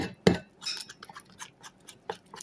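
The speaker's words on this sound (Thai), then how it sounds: "ตีแป้งก่อน ใช้ช้อนตีเลยนะครับ" A metal spoon beats ready-mix pancake batter with milk in a bowl, giving a loud opening clatter and then a run of light, irregular clinks and scrapes up close.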